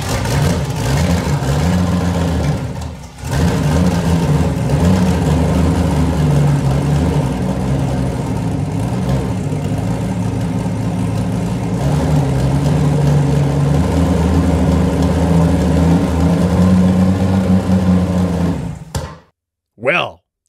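A loud modified Nissan Skyline R34 engine runs and revs continuously with a rough, throaty rumble, briefly dipping once, then cutting off abruptly near the end.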